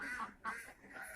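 Egg-laying ducks on a duck farm quack in a steady, fairly close chorus, two louder bursts standing out against continuous background calls, with no talk over them.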